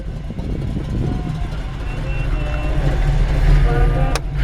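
A 1941 Chevrolet Coupe's engine idling with a mild cam, a mellow, loping low rumble that stays steady and close, with a sharp click near the end.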